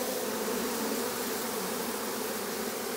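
Honey bees crowd at the hive entrance as a queen returns from her mating flight, a dense continuous buzzing hum, close and steady, with no voices.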